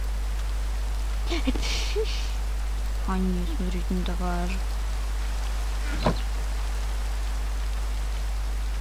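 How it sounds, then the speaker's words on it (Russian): Steady, soft rain falls in Minecraft, a constant hiss running through the whole stretch while someone speaks over it briefly. "Это дождь пошел в Майнкрафте."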